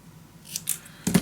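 Scissors snip through a strip of paper, two or three quick close crisp cuts with nothing else in the background.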